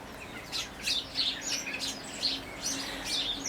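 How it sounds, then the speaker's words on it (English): Starlings chatter and call in a garden, with a burst of busy high chirps, clicks and whistles rising and falling in quick clusters over a quiet outdoor background. "Oh, that's starlings."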